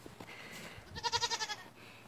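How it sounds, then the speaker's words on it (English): A young goat kid gives one short, wavering bleat outdoors near its mother, moderately close and fairly soft against a quiet background. "all our other goats and Lulu, our donkey, can see the new babies"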